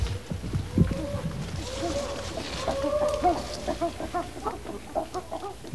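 A wild chimpanzee in a forest calls out loudly after finding food, a series of rising hoots and excited pant-like cries in quick bursts, moderately distant, with a person talking quietly underneath.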